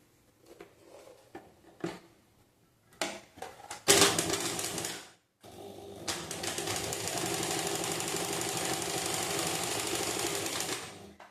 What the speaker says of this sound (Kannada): ನಾನಿಲ್ಲೇ ಸೈಡ್ ಇರೋದನ್ನು ಒಂದು 1/4 ಇಂಚಿಗೆ ಏನು ಮಾಡ್ತೀನಿ ಅಂದ್ರೆ ಸ್ಟಿಚ್ ಮಾಡ್ಕೊತೀನಿ